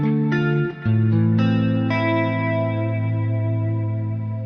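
A homemade electric guitar with gold foil pickups, played through effects, rings out in sustained chords with a chorus-like, slightly distorted tone that swells and lingers, heard alone.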